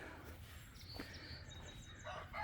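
Chickens clucking and calling faintly in a backyard coop beneath steady background noise, with a few short bird calls.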